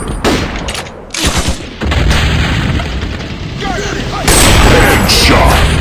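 Loud, dense gunfire and booming explosions come from an offline first-person shooter game on Android or iOS. The near-continuous bursts and blasts run throughout, under excited game voice callouts.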